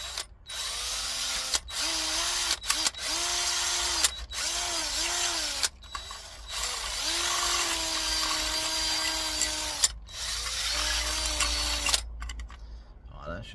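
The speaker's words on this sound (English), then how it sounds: "I'm just drilling the side now to put the wires through." A power drill bores holes through the plastic side of a camping toilet in repeated whining bursts of a few seconds each, loud and close, with short pauses between them.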